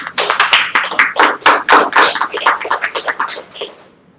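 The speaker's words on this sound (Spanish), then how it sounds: "yo les pido a todos ustedes un fuerte aplauso y darles una bienvenida" An evening session audience claps to welcome a speaker presenting a national development plan, close, loud, uneven hand claps from a small group that taper off at the end.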